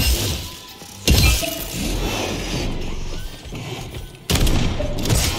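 Shotgun blasts in the Atomic Heart video game, two loud sharp bursts with a crashing, shattering tail, set against a steady mechanical game background with no talking.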